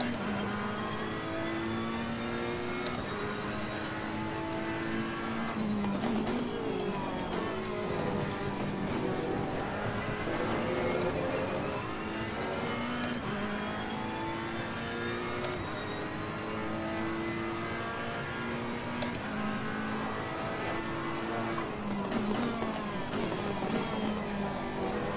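A racing car's engine climbs through the gears, tonal whine rising, dropping at each shift and rising again over a long run, with a hint of oversteer, heard at moderate volume throughout.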